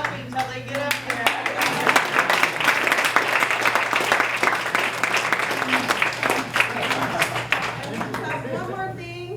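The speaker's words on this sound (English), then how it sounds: "Clapping till they get up here." Audience clapping at a SYEP awards banquet, a full, continuous round of hand claps with chatter and voices mixed in, swelling slightly before easing off toward the end.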